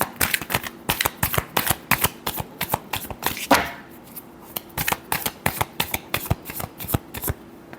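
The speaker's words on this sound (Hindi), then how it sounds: "last shuffle" Tarot cards are shuffled close up in a quick, crisp riffle of rapid papery flicks, a brief pause, then another run of sharp rhythmic shuffling, with no talking.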